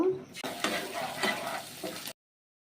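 An egg frying in white oil in a pan, with sizzling and scraping of a utensil against the pan for about two seconds before cutting off abruptly.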